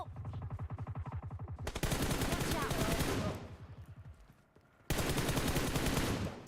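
Rapid automatic weapon fire in PUBG Mobile, loud rattling bursts with a steady rhythm that stop and start, separated by a short quieter stretch.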